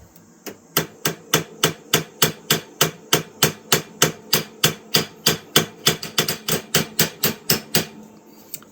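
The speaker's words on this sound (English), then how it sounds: "And just the weight of the hammer." Steady, evenly spaced hammer taps on a rusty 1950s Imperial knife blade, about three per second, loud and close, with nothing else heard.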